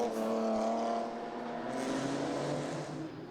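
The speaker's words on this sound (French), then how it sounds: "Voici la BMW de TCL Motorsport qui suit la voiture de Hamofa." A BMW race car runs close behind another car at Zolder circuit during a 24-hour endurance race, the engines droning steadily with a strong harmonic whine that swells slightly and then holds.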